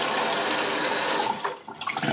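Tap water runs strongly into a small tray used for cleaning makeup brushes, a loud steady rush that thins and splashes unevenly as the flow eases near the end.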